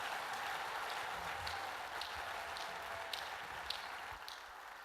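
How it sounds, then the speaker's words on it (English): A church congregation claps together, producing a faint, distant, continuous patter of applause with a few sharper individual claps standing out. "Clap as she brings the word. Clap very well."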